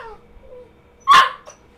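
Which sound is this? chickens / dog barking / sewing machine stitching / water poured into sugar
dog barking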